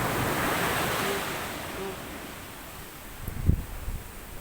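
Sea waves wash in a steady, close roar of surf with wind buffeting the microphone, then a few louder splashes near the end as water hits close by.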